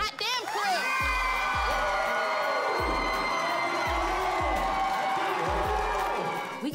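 A crowd in a television show studio cheers and whoops for a group, loud and sustained, with bursts of shouting and a deep thumping beat underneath.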